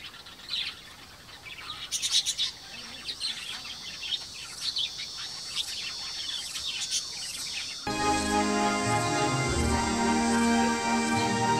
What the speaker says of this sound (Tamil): ரெசார்ட்டில் லவ் பேர்ட்ஸ் எல்லாம் வச்சுருக்குறாங்க